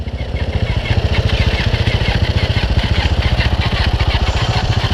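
A Suzuki DRZ supermoto single-cylinder engine runs close by, a loud, rapid, evenly pulsing thump that holds a steady idle-like rhythm from start to finish.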